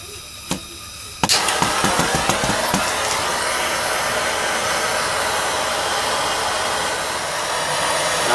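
A torch heats a brake caliper, giving a steady loud hissing roar after a couple of clicks and a sharp ignition pop, and it continues evenly to the end.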